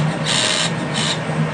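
RMLaser RM960 Pro CO2 laser cutting through wood, a loud, continuous rushing hiss with two higher screeching swells about half a second apart, no speech.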